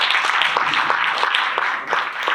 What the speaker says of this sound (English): one more round of applause for our 3 wonderful speakers.